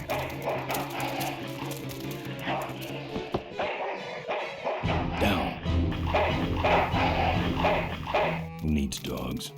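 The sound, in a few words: dog barking in video game Full Throttle Remastered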